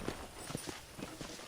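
Horse hooves clip-clop at a steady walking pace in the video game Red Dead Redemption, several distinct, fairly close hoofbeats over a soft ambient background with no talking.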